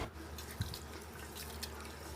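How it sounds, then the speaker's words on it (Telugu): Rice grains are rinsed in water, with a steady wash of running, sloshing liquid and a soft low splash partway through, close and fairly quiet. "2 గ్లాసుల బియ్యం అంటే 600 గ్రాముల బియ్యాన్ని 2 సార్లు శుభ్రంగా వాష్ చేసుకుని"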